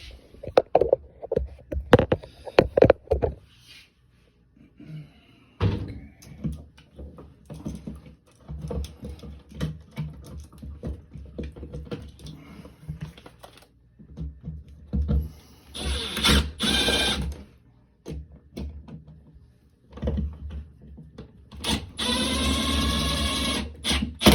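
A GFCI outlet is screwed back into a bathroom electrical box, with close scraping, rattling and clicking of the device and screwdriver in uneven bursts, including a longer whirring stretch near the end, no speech.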